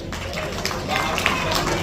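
Audience applause at a public function, dense steady clapping throughout with crowd noise underneath.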